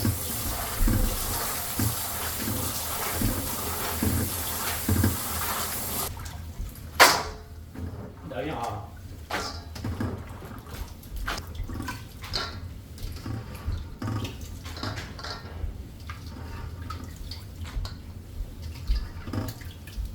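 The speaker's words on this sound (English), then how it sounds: "I'm going to rinse it a couple times and then drain it in a colander." Soaked soybeans being rinsed under water and drained in a colander for making tofu: a steady running-water wash gives way to close splashes, drips and trickles as the beans drain.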